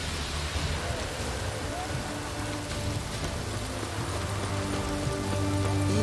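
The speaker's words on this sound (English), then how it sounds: "It's raining, of course it's going to be done" Steady rain falling in The Witcher 3 video game, a dense even hiss of drops continuing throughout at moderate level, with faint game ambience and a low hum underneath.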